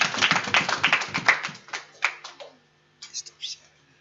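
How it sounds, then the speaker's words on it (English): Short burst of clapping from a small congregation at a Sabbath service, a few quick claps that thin out and stop, then a brief faint sound after a pause, with a voice present. "Let's clap for her."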